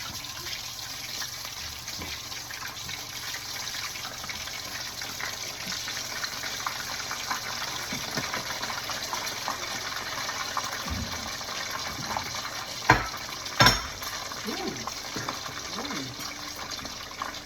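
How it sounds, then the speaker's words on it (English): A continuous crackling, sizzling hiss of hash browns frying in hot grease, with a couple of louder clatters near the end and some talking. "So my grease is good and hot, so I'm gonna put my pieces in."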